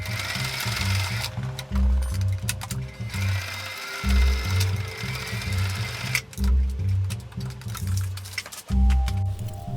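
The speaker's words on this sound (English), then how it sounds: "This is just your standard sewing machine. It's not an industrial machine" A standard domestic sewing machine stitching a Velcro pedal strap: rapid, rhythmic mechanical whirring in several bursts, briefly pausing between runs, loud and close with no talking.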